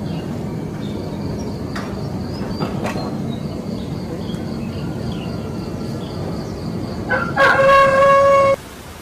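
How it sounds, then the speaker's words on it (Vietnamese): Roosters crow in the countryside, a distant call followed by one loud, close, drawn-out crow near the end, over a steady bed of rural background noise and faint birdsong. "đâu đó những tiếng chim hót, tiếng gà gáy tạo nên một khung cảnh rất đỗi thanh bình nơi thôn quê."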